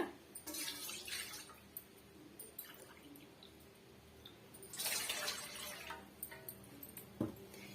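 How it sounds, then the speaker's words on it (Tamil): Water is poured from a cup into a kadai for a semolina snack, quiet splashing bursts near the start and again midway, with small clinks and a brief knock near the end, no speech. "அதே கப்பால ரெண்டு கப் அளவுக்கு நம்ம தண்ணி சேர்த்துக்கலாங்க"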